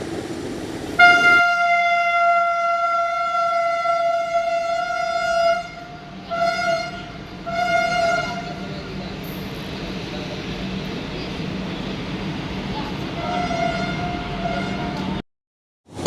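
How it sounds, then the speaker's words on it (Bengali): Vande Bharat express passing near a station, heard from inside another train: a long, loud horn blast followed by shorter horn bursts over a low steady rumble, ending abruptly. "বন্দে ভারত ট্রেন পাস হচ্ছে এই সাইড দিয়ে"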